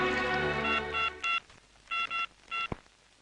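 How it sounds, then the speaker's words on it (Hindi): A telephone being dialed with touch tones: a series of short beeping tone bursts in quick pairs and singles, clear and isolated over a quiet background. "अगर साहब ने फोन घुमाया"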